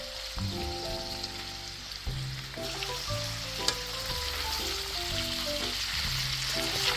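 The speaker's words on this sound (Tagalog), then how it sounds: "Fry natin ng konti." Cheesy sausage and plain hot dog fry in a sturdy pan, a loud, continuous sizzle and crackle with occasional spatters, while something clanks or stirs in the pan at intervals.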